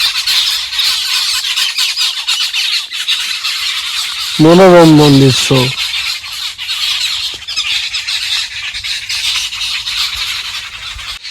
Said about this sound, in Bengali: দেখে নাও বন্ধুরা পাখিদের কি সুন্দর আওয়াজ আসছে